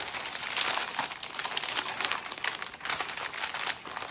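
Newsprint paper crinkles and crackles as an item wrapped in it for moving is rolled up, a dense, close run of crisp rustling that continues throughout.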